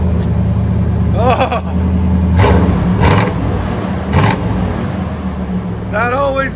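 Cabin of a Chevy Silverado with a 5.7L V8, the exhaust heard from inside as a deep, steady rumble that swells slightly. Voices talk and exclaim over it.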